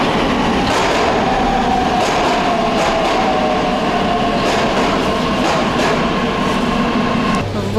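A Saint Petersburg metro train rumbles loudly and steadily, with clicking rail noise and a faint whine running throughout, no voices.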